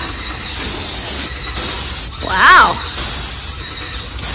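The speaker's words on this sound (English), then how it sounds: "Let me spray back this way." Paint sprayer hissing steadily against a smooth, untextured ceiling in bursts of about a second each with short pauses between, loud and close; a voice exclaims briefly midway.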